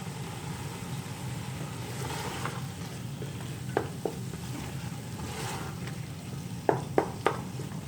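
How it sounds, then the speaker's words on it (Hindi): Mashed carrots fry in ghee for gajar ka halwa with a low steady sizzle, broken by a few sharp clinks and scrapes of a spoon against the pot near the end. "गाजर को ज़रा भून लेंगे।"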